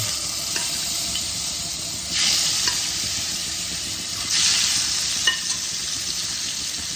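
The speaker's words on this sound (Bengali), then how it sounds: "ওই তেলে বাদ বাকি মাছগুলোকেও ভেজে নেব।" Katla fish frying in oil in a pan, a bright continuous sizzle with occasional louder hissing swells and scraping stirs, close by and without talk.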